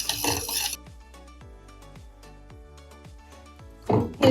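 Spoon scraping and clinking around a pan while mango custard with condensed milk and sugar is stirred, a steady series of light metallic taps, with louder clattering at the start and end.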